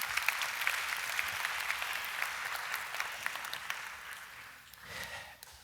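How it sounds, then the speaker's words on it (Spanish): An indoor church audience claps for Abisaí in a dense, steady burst that thins out and fades toward the end, and a soft voice murmurs briefly near the close. "¿Por qué no le damos un aplauso a Abisaí?"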